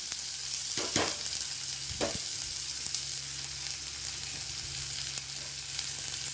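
Chopped onions and green chilies sizzle and fry in a hot pan, a steady crackling hiss broken by a couple of louder scraping stirs near the start.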